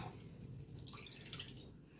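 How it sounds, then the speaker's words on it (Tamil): Water poured in a small amount into a rinsed kadai pan, heard as a faint, close trickle with soft splashing and dripping in a quiet room. "இதில் கொஞ்சமாக தண்ணி ஊற்றிக்கோங்க, ரொம்ப வேண்டாம்."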